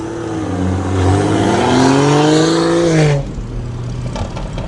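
Tuned BMW 535i with an Active Autowerke tune revving hard in a tunnel, the engine note climbing steadily for about three seconds before lifting off abruptly, loud and echoing.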